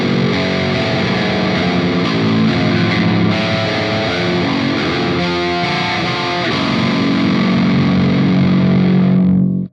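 Loud, heavily distorted electric guitar chords through a Revv G3 pedal on its red aggression setting ring out continuously, thick and fuzzy, with shifting notes before cutting off abruptly.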